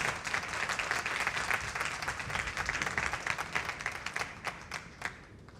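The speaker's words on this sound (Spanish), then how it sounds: "Dale un aplauso a Dios por eso" A church congregation claps together in a sustained round of dense applause, fairly even in loudness and fading slightly toward the end, with no talking over it.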